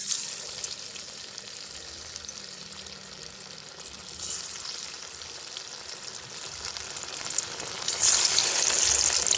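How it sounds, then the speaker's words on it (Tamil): Raw banana vada deep-frying in hot oil, a steady close sizzle and crackle that holds through and grows louder and brighter near the end, with no voices. "நான் வடையை எண்ணெயில் பொரிச்செடுக்க போகிறேன்."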